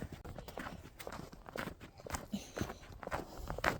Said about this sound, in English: Drives me nuts when horses think that they can walk in front of you.